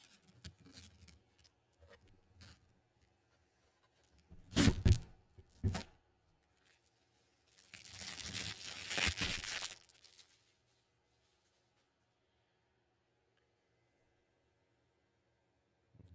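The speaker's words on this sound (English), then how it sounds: "Do you guys keep these little cellophane things?" Crinkly cellophane wrappers are handled in a quiet room: one sharp burst of crackling, a second shorter crinkle, then a longer, denser rustle lasting about two seconds before fading to silence.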